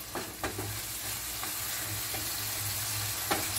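Onions, green pepper and tomato with a pinch of salt frying in a pan over medium heat, a steady soft sizzle broken by several quick scrapes of a stirring utensil.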